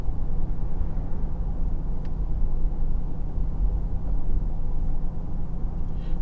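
Cabin noise inside a Mercedes G63 AMG G-Wagen cruising at 30 mph: a steady low road and engine rumble with faint wind hiss, even and unbroken, with no talking.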